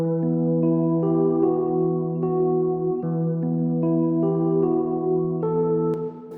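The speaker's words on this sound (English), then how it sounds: "Then I played in this nice chord progression, like this arpeggiated chord on the stage 73V from Arturia." Arpeggiated chords played on an Arturia Stage-73 V electric piano: warm, sustained tones with notes stepping through each chord, shifting chords every second or so, steady and close with no voices.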